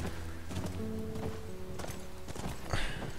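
Horse hooves clip-clopping at a walk in The Last of Us, irregular hoof strikes close by with a brief snort or whinny near the end.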